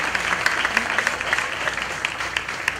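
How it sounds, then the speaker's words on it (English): An audience claps at a school gathering, a moderate, steady spatter of applause with distinct individual claps popping out above the mass, holding at even volume throughout. "Yes, you may clap."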